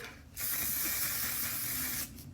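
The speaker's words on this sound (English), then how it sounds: "I'm gonna use setting spray" A single steady spray from an aerosol bottle of makeup setting spray, a bright hissing burst lasting under two seconds, close by.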